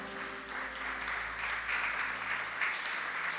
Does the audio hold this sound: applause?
yes